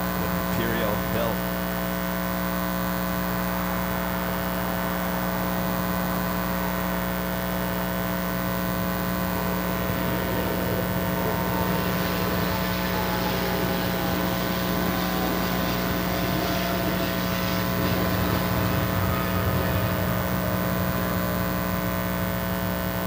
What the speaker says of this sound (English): I feel like a nice and loud 777 rolling down to 25 left.